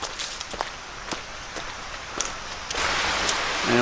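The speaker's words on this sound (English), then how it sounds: "And it looks like we have a stream crossing." A stream swollen by rain flows heavily across a hiking trail on the Appalachian Trail, a steady broadband rush with scattered splashes and footsteps, growing louder near the end, with no talk.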